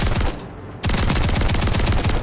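Rapid, loud bursts of gunfire from the JAK Maglift Kit Haymaker shotgun in Modern Warfare 3. The shots come close and dense, with a brief near-silent gap before firing resumes and runs steadily to the end.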